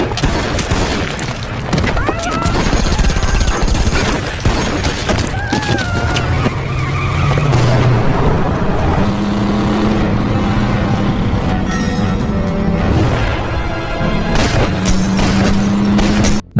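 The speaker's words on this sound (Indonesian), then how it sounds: "ia lantas berusaha menolong Jessica, sehingga baku tembak sengit tidak dapat lagi dihindari." Action film gunfight and car chase: booms, bursts of gunfire and skidding tires pile up densely over a musical score, loud and continuous throughout.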